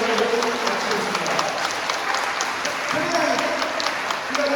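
Audience applause at the close of a parish lecture on martyrdom at a Catholic church in Segok-dong, steady clapping from a crowd filling the room, with voices talking over it.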